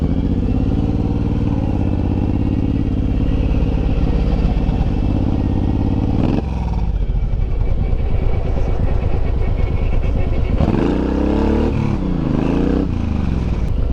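Suzuki M109R motorcycle engine on a warm road, loud and steady, with a deep throb that builds as the throttle opens in surges, revving up sharply near the end; no talking.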